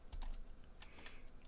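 A few quick keystrokes on a computer keyboard, light close clicks in two short clusters, faint and alone without speech.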